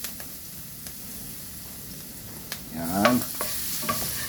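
Garlic sizzles in a hot pan with ginger for chicken tinola, a low crackle that swells into a louder burst of frying and scraping as it is stirred near the end.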